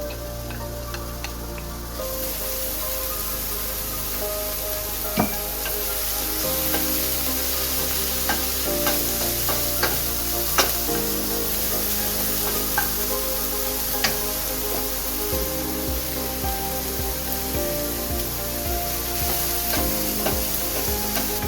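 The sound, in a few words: arborio rice toasting in olive oil with shallots and garlic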